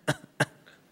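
A person imitates coughing with the voice: two short, sharp cough bursts close together, then a faint trailing breathy sound, all close and fairly quiet.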